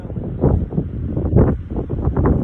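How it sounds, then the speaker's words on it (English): Strong wind gusts across open Montana prairie on a cloudy day, a steady low roar that swells and buffets the microphone in waves throughout, with no other sounds standing out. "A little cloudy today, real windy."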